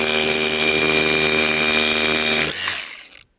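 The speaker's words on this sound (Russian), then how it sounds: "Шикарно, шикарная работа нашего перфоратора." A Heimerdinger LB305 rotary hammer drill runs loud and close in hammer mode, giving a dense, steady buzzing rattle that cuts off abruptly and winds down to silence.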